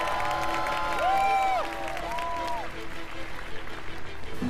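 A televised youth talent show audience applauds and cheers with steady clapping and crowd noise. Sliding synth tones play over the first half, and the clapping continues as a dense wash.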